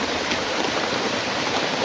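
Very heavy rain pouring down under a banana tree, a dense, steady, loud hiss with no breaks.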